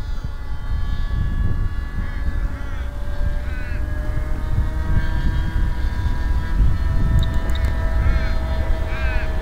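Starliner model airplane engine at full throttle, a sustained steady drone with a constant tonal whine over wind rumble, heard throughout at moderate distance.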